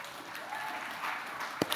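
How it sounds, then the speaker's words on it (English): A conference audience applauds to welcome a speaker to the stage, a steady wash of clapping throughout with a couple of sharper claps near the end. "please give him a round of applause"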